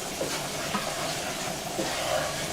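Flour browning in a pan for smothered pork chops, a soft continuous sizzle with light stirring scrapes, close and fairly quiet.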